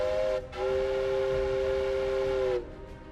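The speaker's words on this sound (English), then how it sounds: "When that whistle went off," A steam whistle blows loud and steady, a brief first blast cut off then a long sustained tone of about two seconds, alone without any voices.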